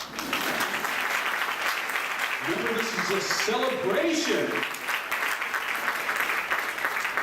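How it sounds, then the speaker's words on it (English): An audience applauds guests being introduced at a celebration, a steady wash of clapping that runs throughout while someone speaks over it partway through. "Applause is all right"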